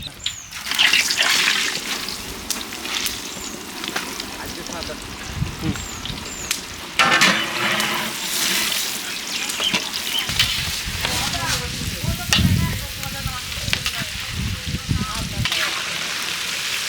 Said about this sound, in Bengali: এগুলো আমরা দিয়ে দেবো, ভাজিয়ে নেবো